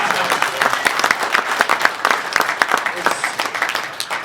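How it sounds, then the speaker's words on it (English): Loud, enthusiastic applause from a crowd at a Las Vegas event, dense clapping with distinct sharp claps and some voices mixed in, holding steady before thinning slightly at the end. "Give a round of applause for that."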